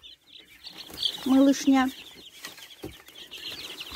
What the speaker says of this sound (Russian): А еще в сарайчике у нас находятся цыплята.